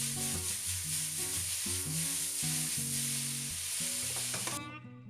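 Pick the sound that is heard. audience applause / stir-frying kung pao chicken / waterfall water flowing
stir-frying kung pao chicken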